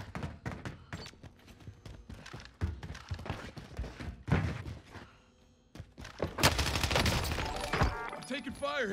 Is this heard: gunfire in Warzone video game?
yes